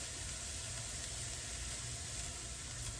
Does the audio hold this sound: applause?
no